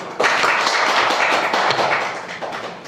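An audience at a Korean policy meeting on the special act for priority purchase of products made by people with severe disabilities breaks into sudden loud applause that carries on steadily for about three seconds.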